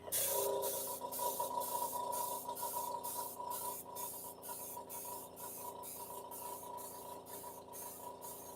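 A spray gun hisses steadily while paint goes onto an aircraft in a crisscross pattern, a continuous close airy spray with a faint pulsing texture and no talk.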